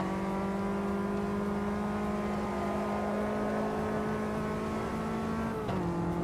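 A Caterham race car in the Automobilista 2 racing game holds a steady, loud engine drone at high revs, then the pitch drops briefly near the end as it shifts or lifts off.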